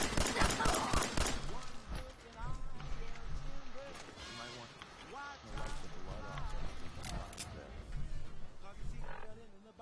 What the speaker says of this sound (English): I hear gunfire, don't see.